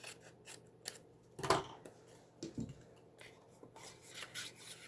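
Several quick scissor snips and rasping cuts, sharp and close, scattered irregularly over a quiet background.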